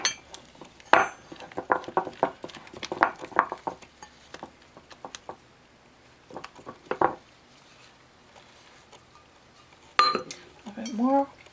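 Powdered sugar worked into hard sauce in a bowl, giving bursts of clinking and scraping of utensil against the bowl in uneven strokes, with pauses and a short voice sound near the end.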